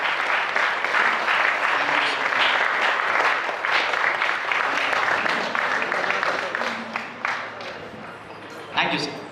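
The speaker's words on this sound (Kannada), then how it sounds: "ಒಂದು ಜೋರಾದ ಚಪ್ಪಾಳೆಯ ಮೂಲಕವಾಗಿ ಈ ಒಂದು ಕಲಾವಿದರಿಗೆ ಹಾರೈಕೆಯನ್ನು ಕೊಡಿ" Loud, sustained applause from a theatre audience at a Yaksharoopa stage performance in Mangaluru, dense steady clapping that tapers slightly near the end, with some voices in the crowd.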